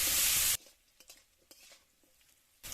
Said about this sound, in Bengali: দিয়ে দেবো একটু লবণ, হলুদ গুঁড়ো, একটু লাল করে ভেজে নেবো আলুগুলো।